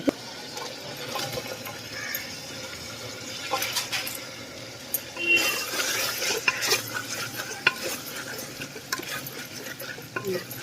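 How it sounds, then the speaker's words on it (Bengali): Spices with a splash of water get stirred in a pan while cooking shrimp with greens, giving a soft scraping and sizzling with scattered clinks of the utensil against the pan. "সামান্য একটু জল দিচ্ছি মশলাগুলো যাতে পুড়ে না যায় একটু নাড়াচাড়া করে নিচ্ছি"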